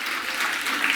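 Brief, dense applause from an audience at a kids' competition on an outdoor playground stage, a continuous wash of many hands clapping with no talk over it.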